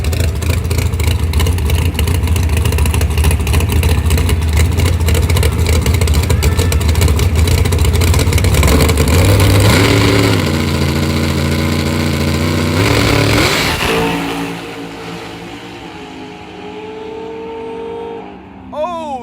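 A Yello Belly Xtreme Racing drag car roars down the strip at full throttle, a loud, dense engine blast that climbs through rising gear pitches and then fades with distance, with crowd noise and commentary mixed in.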